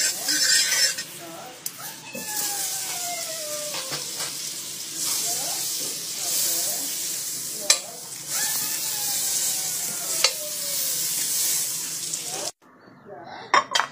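Butter sizzling steadily in a frying pan at the start of a carbonara sauce, a close, constant hiss under a few clinks of a utensil, with brief talk at moments.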